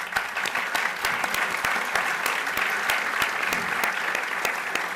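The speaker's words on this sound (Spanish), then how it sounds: "Aplauso." Sustained applause from an audience, dense steady clapping filling the whole stretch at an even level, with no voices standing out.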